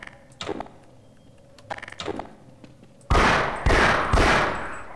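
Gunfire in Half-Life: Source, with a few scattered sharp shots early on followed by a loud burst of heavy, rapid repeated blasts that dominate the end.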